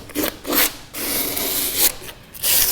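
Sandpaper scrubs the inside of a wooden kayak after glassing, giving several short rasping strokes in uneven bursts with brief pauses between them, close and fairly loud.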